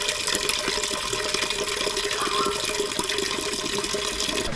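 Water runs steadily from a kitchen tap into a pot of peas, a constant close rushing splash with no pauses.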